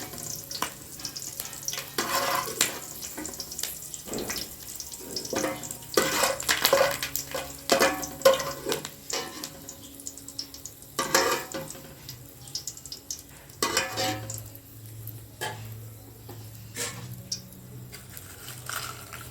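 Snack ingredients fry in a pan for an Indian evening snack, with a steady soft sizzle, scattered stirring clatters and a few brief bursts of running water nearby.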